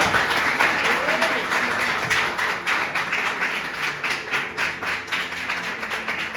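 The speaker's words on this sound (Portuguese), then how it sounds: "Você pode aplaudir o Senhor por essa palavra?" Applause from a church congregation fills the space, a dense steady wash of clapping that tapers slightly toward the end.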